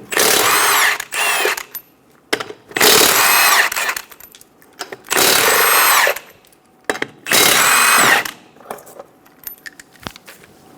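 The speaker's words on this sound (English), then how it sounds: "we're going to remove the 4 lug nuts." Power tool with a 19mm socket spinning off the lug nuts of a 1994-1997 Honda Accord 2.2L wheel, heard as four loud, close, rattling bursts separated by short quiet gaps with small clinks.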